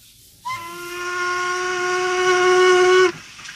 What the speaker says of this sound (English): Did you hear that? Train whistle?